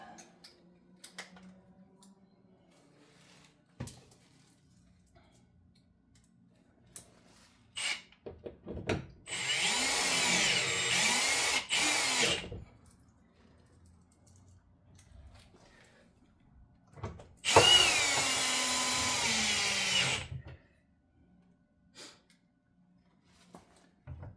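Bolts on a Jeep Grand Cherokee WK front door latch actuator being driven in with a power tool and 10mm socket, two sustained whirring bursts with quieter handling clicks between.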